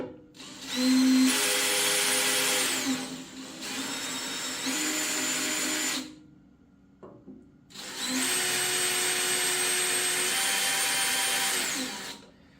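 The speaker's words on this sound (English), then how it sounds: "I'm just going to kind of line it up to where I need it and drill some pilot holes." A power drill whines loudly in two long bursts, pausing briefly between them, its high pitch shifting slightly as it bores pilot holes into a steel tractor bucket.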